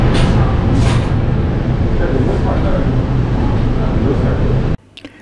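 An Indian express train pulls out of Yeshwantpur station, heard from inside the rear Vistadome carriage as a loud, steady rumble and roar that cuts off abruptly near the end.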